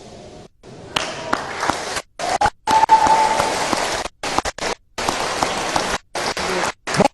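A studio audience applauds for Tariq Aziz, loud, dense clapping that starts and stops repeatedly in short bursts, with a few gaps of near silence between them.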